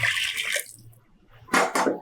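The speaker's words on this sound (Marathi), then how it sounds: "त्यामध्ये आता हे गरम केलेलं पाणी घालूया" Heated water splashes and pours into a pot of boiled dal for sambar in two short bursts with a brief pause between, close by and fairly loud.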